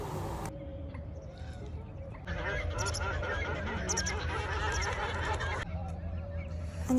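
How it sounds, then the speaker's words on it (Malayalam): Birds call at a lake at sunrise on a cold camping morning, honking, goose-like cries that grow busier and louder partway through over a low outdoor rumble. "കിളികളുടെ സൗണ്ടൊക്കെ കേൾക്കാൻ നല്ല രസമുണ്ട്"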